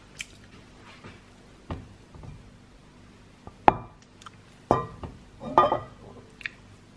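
Air-fryer grilled chicken being bitten and chewed up close, a handful of sharp, moist crunches and smacks spaced across a quiet room with no talking.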